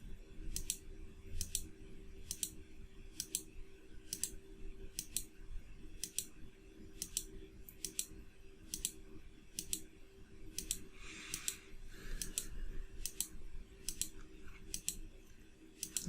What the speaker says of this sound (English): You're hearing me clicking.